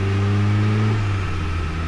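A 2005 Mazda MX5 Mazdaspeed on a dyno, its turbocharged engine holding a loud steady rev, then easing and shifting tone under load, close and dominant with no talk.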